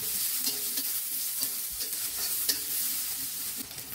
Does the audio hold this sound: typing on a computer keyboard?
no